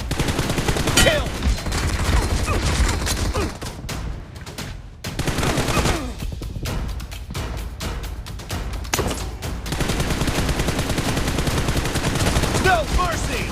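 Rapid gunfire in a first-person shooter video game, near and loud, with dense automatic bursts and heavy shots rolling almost continuously and only brief gaps, while a voice calls out over the shooting.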